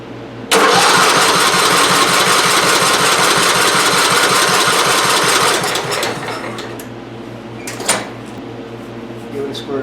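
A Kohler 16 engine on a Craftsman mower, with a suspected carburetor fault, is cranked with the choke on. A loud, rapid mechanical chugging runs for several seconds, then drops to quieter rattles and a few clunks.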